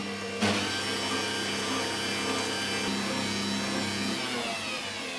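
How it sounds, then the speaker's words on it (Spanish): Electric hand mixer beaters whip a pineapple no-bake cake mixture at medium speed until foamy, a steady loud motor whine with a brief spike as it starts, running continuously. "Voy a batir a media velocidad hasta que comience a estar espumosa."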